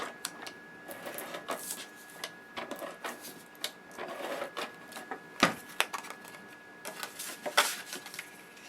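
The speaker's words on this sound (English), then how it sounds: "So I'm just going to adhere that down with my ATG gun." An ATG adhesive tape gun rolls tape onto card paper in a close series of rapid clicking, ticking and rattling bursts, with a sharper snap near the middle, against a quiet room background.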